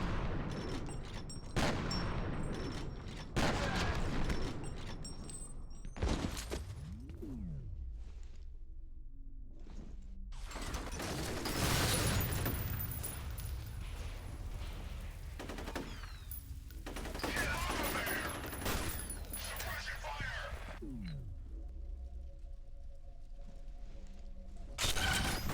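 Sustained combat gunfire in the shooter game F.E.A.R.: loud, close bursts of rapid automatic shots and single blasts repeating across the span, mixed with mechanical clanks and booming impacts.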